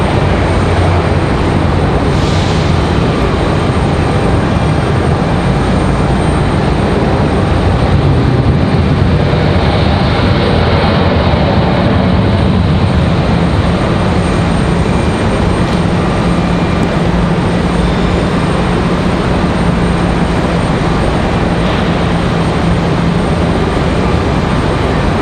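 An Embraer E175 airliner arriving at Raleigh-Durham from JFK, giving a loud, steady, broadband engine roar that holds for the whole stretch with little change.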